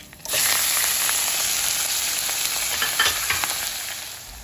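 Steady crackling sizzle of onions frying in a hot pan, loud and close, with occasional stirring scrapes and no voices.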